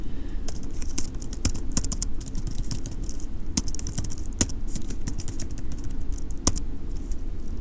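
Rapid keystrokes on a computer keyboard as a git clone command for the Peercoin Advanced Relay Subnet repository is typed out, a steady close clatter with a few sharper key hits, no one speaking.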